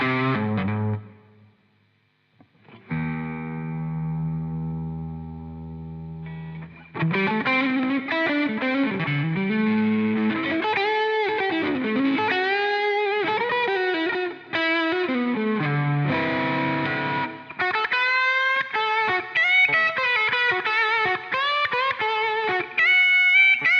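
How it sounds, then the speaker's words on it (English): An electric guitar played through heavy distortion and effects, sustained thick chords giving way to a busy, saturated run of bends and notes that carries on for over twenty seconds with no talking. "That's what I mean about putting too much distortion on the guitar."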